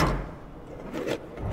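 A drawer opens in the horror video game Lethe, a short wooden slide and knock followed by a second bump, fairly quiet and heard alone.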